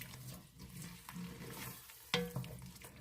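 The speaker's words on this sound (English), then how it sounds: "Give it a stir" A spoon stirs diced tomatoes into homemade gravy in a Dutch oven over low to medium heat, giving soft scraping and wet stirring sounds over a faint sizzle, with one sharper knock near the end.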